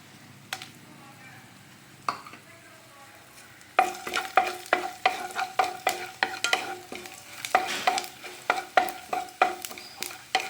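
Whole black pepper and cumin fry in hot oil for a drumstick leaf soup, giving a steady crackling sizzle, then loud rhythmic scrapes and clatters of a spoon stirring the pan, close up, with no talk over them.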